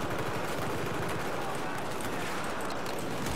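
Rapid gunfire in the Battlefield 4 campaign, with dense continuous automatic bursts rattling through the whole stretch over a busy, noisy background.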